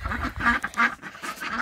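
Ducks quack repeatedly and close by in a rapid string of overlapping nasal calls, loud and continuous throughout.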